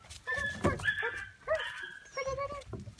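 A dog whines and whimpers in high, drawn-out cries, close by, with a few short yelps between them.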